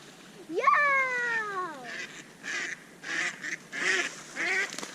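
Ducks on a newly built backyard pond give a loud rising-then-falling honking call, followed by several shorter quacking bursts at close range.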